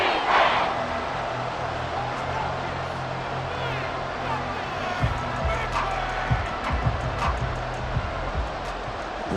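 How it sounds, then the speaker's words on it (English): A dense stadium crowd roars in Madden NFL 24 during a Falcons football game, a constant loud wash of cheering and hubbub with occasional thumps and sharp bursts, while a commentator's voice can be heard over it. "This crowd doing all they can."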